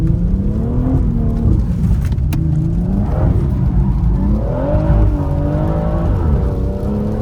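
A BMW M140 engine revs hard and fluctuates as the car drifts, a loud, continuous strained roar with rising and falling pitch and a possible brief tire squeal, close by and steady throughout.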